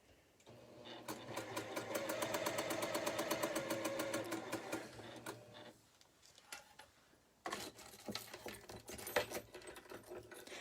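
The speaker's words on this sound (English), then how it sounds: "I'm just sewing this one block for you guys tonight" A sewing machine stitches a quilt block, its rapid needle ticking running steadily for several seconds before a short pause and a second, more uneven burst of stitching. The sound is quiet and close.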